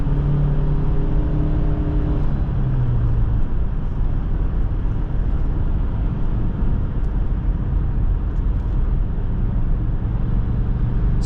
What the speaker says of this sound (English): When I'm adding in throttle lightly, it builds speed with such ease.